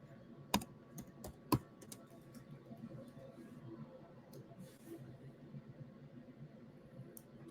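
Keys on a computer keyboard give a couple of sharp, close clicks and a few lighter taps over a faint, steady room hum.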